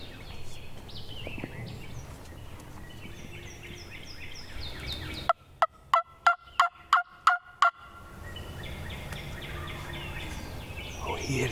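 A wild turkey on Tennessee public land gobbles back to a call in spring, a rapid run of about seven sharp, evenly spaced gobbling pulses, loud and clear against a quiet outdoor background.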